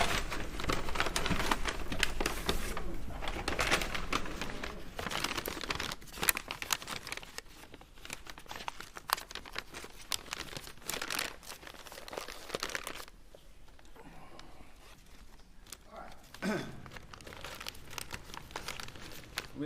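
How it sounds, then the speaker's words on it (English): Plastic evidence bag crinkling and rustling almost continuously as items are returned to it in a murder trial courtroom, close and fairly loud, easing off briefly near the end. "And then put those back in the plastic bag for me."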